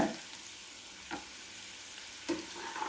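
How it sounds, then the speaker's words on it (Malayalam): Ginger and garlic sautéing in a pan for a mango and carrot pickle, a soft, steady sizzle with a few faint stirring scrapes, quiet and with no talk. "ഇതിങ്ങനെ കുറച്ച് നേരം ഇങ്ങനെ വഴറ്റിയെടുക്കണം"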